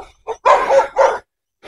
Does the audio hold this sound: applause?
no